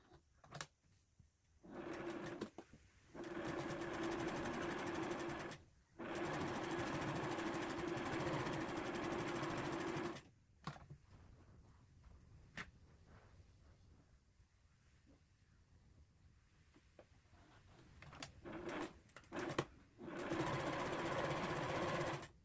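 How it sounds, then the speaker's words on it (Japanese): A domestic sewing machine runs in steady whirring stretches while stitching the side seams of a fabric pouch, stopping and restarting several times with quiet gaps and small handling clicks between runs. "両端を端から1センチのところの縫い代で縫い合わせます。"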